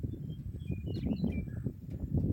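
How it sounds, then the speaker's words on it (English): Faint bird chirps flit high above a heavy low rumble of wind or distant traffic at a rest stop with wind turbines beside an old abandoned church, a few short calls scattered across the moment. "you hear some birds chirping, and there's a bell here."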